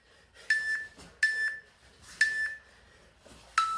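Four sharp electronic timer beeps, each a short held tone with a brief echo, spaced roughly a second apart in a quiet room.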